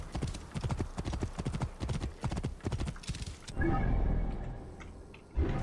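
Hoofbeats of a galloping horse in Assassin's Creed Origins beat in a fast, steady clip-clop for about three and a half seconds, then give way to a heavy rumble and a brief whinny-like cry near the end.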